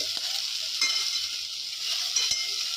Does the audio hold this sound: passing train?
no